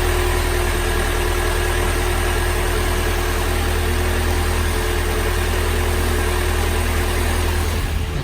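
A Honda B16A3 engine idles right after installation and first start-up, a steady loud hum with a constant low drone and faint tonal whine held evenly throughout.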